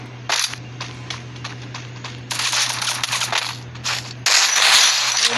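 Rapid bursts of gunfire from a Garena Free Fire ranked match, loud and dense, with sharp repeated shots clustering into sustained volleys toward the end and no talk over them.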